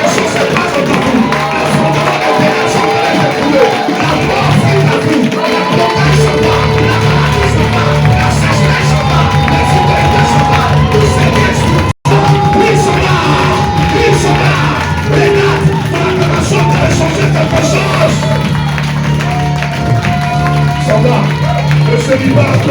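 A church congregation at a French-language service acclaims and cheers in a loud, continuous roar of shouts, whoops and voices, with people talking throughout and a sustained musical tone beneath.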